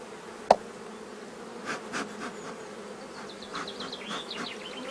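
Honeybees buzz faintly around an amateur beekeeper's hive, a soft droning hum with a sharp knock near the start, scattered insect whines, and small nearby handling sounds.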